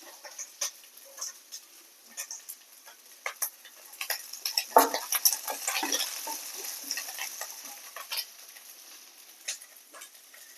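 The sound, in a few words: frying okra in a pan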